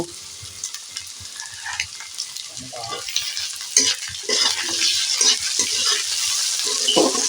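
Chopped tomatoes stirred with soybeans, garlic paste and green chillies in a hot pan, giving a steady sizzle with repeated scraping stir strokes that grow louder and denser toward the end, close up and with no talking.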